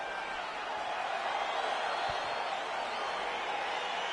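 Virtual arena crowd in the UFC 4 fighting game as a heavyweight bout between Ngannou and Jon Jones begins, a steady, fairly loud wash of roaring cheers with no clear break.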